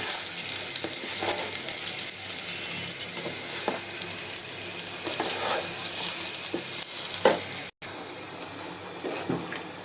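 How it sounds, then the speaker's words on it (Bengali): Hilsa pulao rice stirred with fish gravy in a pot, with continuous close scraping and sizzling, rhythmic stirring strokes, and a brief dropout near the end. "মাছের এই গ্রেভিটা দিয়ে এখন নাড়ব।"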